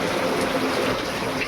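Heavy rain pours down on a farm in a steady, dense roar that stays loud and close without a break.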